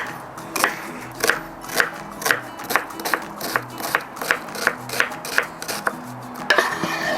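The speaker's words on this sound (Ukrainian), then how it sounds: "Цибулю буду нарізати кубиком середнього розміру." A knife dices an onion rapidly on a board, about a dozen crisp, evenly spaced taps, close and clear with no talking.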